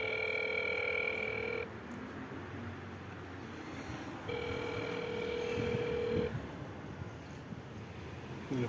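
A door intercom sends out a calling tone in two long electronic beeps separated by a pause, fairly faint over a low background hum.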